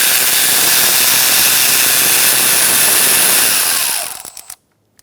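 A power tool with an 8mm socket whirs loudly and steadily as it backs out the fuel line bracket bolt on a 2012-2018 Ford Focus 2.0L L4. It spins down and stops near the end, followed by a couple of small clicks and then silence.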